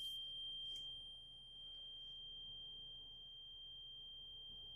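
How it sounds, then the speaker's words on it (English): A Dutch Star motorhome's jack retraction warning buzzer holds one steady, high electronic tone throughout, fairly faint and alone, with a few soft bumps near the start. "when the final jack is retracted, the buzzer warning will stop."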